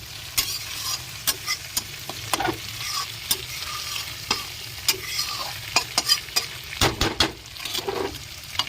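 Prawns stirred and sautéed in a spice paste, the spatula scraping in rhythmic strokes with a steady sizzle underneath, close and fairly quiet, with no voices.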